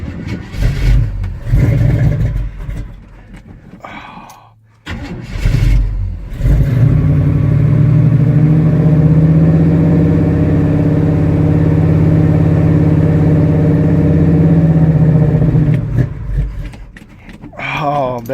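A 1984 Chevy K30 truck with a non-working choke cranks and fires on a cold start, then settles into a loud, steady, rumbling idle up close, with people talking over the start and again at the end.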